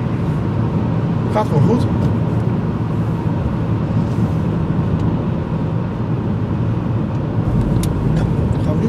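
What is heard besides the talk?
Ford Focus 1.0 EcoBoost car accelerating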